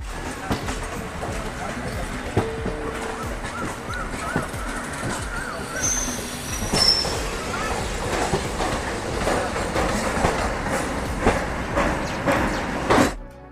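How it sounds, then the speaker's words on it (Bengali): Kanchanjunga Express pulling out of platform 13 at Sealdah station, with a steady rumble and rhythmic clatter of wheels on track throughout, a brief high squeal midway, and voices talking underneath. "সেই টাইমে কিন্তু ট্রেন ছেড়ে দিল শিয়ালদার 13 নম্বর প্ল্যাটফর্ম থেকে"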